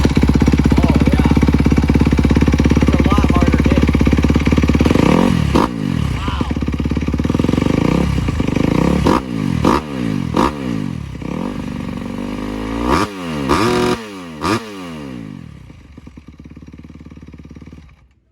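A 2021 Kawasaki KX250 dirt bike fitted with a Pro Circuit full exhaust system idles loudly, then is blipped through a run of sharp, rising revs, each followed by a quick drop back to idle.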